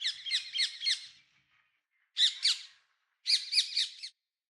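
Birds chirping and tweeting outdoors outside a house in three bright bursts of rapid, high-pitched calls separated by short quiet gaps.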